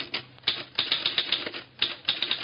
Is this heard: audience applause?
no